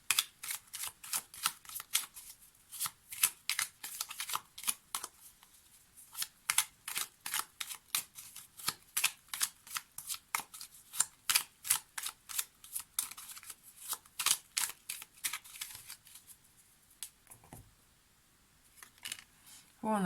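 Tarot cards riffle and snap in a steady run of crisp, rapid shuffles, close and fairly loud, pausing briefly near the end before resuming.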